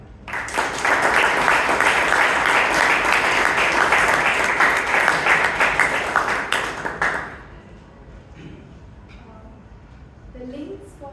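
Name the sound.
audience applause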